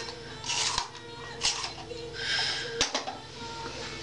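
Makeup pencil being sharpened, giving soft scraping and rasping strokes in short bursts with a few sharp clicks, fairly close and quiet.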